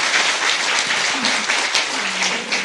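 Sustained, loud applause from a crowd at a political rally, a dense wash of clapping throughout with faint voices underneath.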